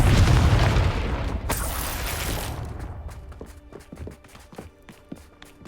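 A fiery Confringo blasting spell from the Hogwarts Legacy video game goes off with a loud, booming explosion and a sharp burst, then the rumble fades under scattered footsteps and small thuds.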